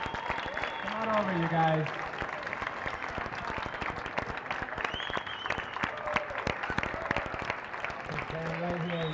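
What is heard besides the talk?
applause for Special Olympic athletes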